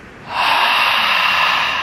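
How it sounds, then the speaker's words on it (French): A person fakes a yawn, letting out a long, breathy exhalation that swells quickly and holds steady, close and alone with no words. "Je simule le bâillement."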